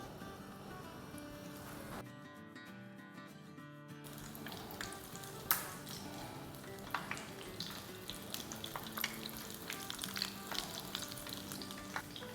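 Battered onion pakora balls frying in hot oil for Ramadan iftar, a steady bubbling sizzle with scattered crackles and stirring clinks, close and continuous.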